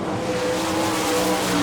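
A race car roars steadily past at the finish of an All Star Circuit of Champions event at Barberville, Florida, its loud engine drone holding close and constant without talk.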